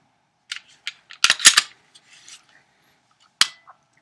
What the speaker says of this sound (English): In AS mode, here's your trigger travel. There's the trigger wall, and there's your break.